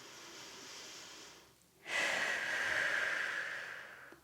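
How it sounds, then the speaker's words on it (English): Deep breathing during a neck rehab exercise: a slow, audible exhale fades out, then after a brief pause a long, strong breath follows, close and breathy, with no speech. "Breathe deeply."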